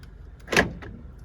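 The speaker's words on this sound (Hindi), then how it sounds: "बटन दबाया गाड़ी अनलॉक हो गई" A car's power door lock actuator unlocks at a button press, one short sharp mechanical clunk with a faint click after it, close in an otherwise quiet space.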